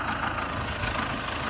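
A tractor engine runs steadily through sowing of a wet, damp field, a continuous low idling-like drone with broadband rumble and no talk over it.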